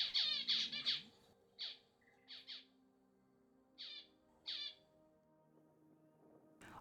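Calls of an Australian Pratincole at a water spot on the hot, dry inland plains of Queensland: a quick cluster of sharp chirps, then a few single calls spaced seconds apart over quiet background.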